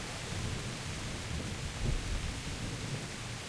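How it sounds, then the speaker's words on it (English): Steady heavy rain with low rolling thunder in the video game Kingdom Come: Deliverance, a soft continuous hiss with a brief deeper rumble swelling midway, no voices. "Peeing down a rain."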